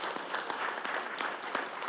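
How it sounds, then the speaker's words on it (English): A crowd applauds steadily, a dense wash of many hands clapping at once, moderately loud with no voices standing out. "we should give them a round of applause"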